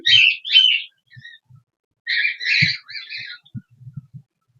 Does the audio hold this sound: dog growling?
no